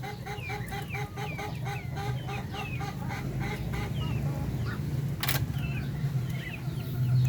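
Chickens and chicks under a light clucking and peeping in rapid repeated calls, close by, over a steady low background hum, with a sharp noisy burst partway through.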